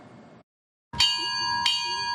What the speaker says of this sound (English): The sound of a bell, with each ring marking a ship lost in the Battle of the Atlantic.